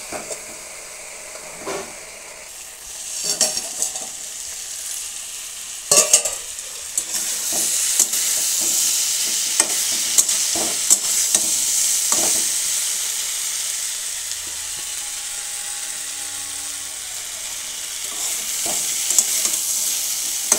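Heads frying in oil in a pan with a steady sizzling hiss, broken by scattered clicks and clatters of stirring and spattering, close and fairly quiet throughout.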